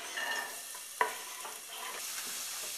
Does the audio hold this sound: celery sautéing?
yes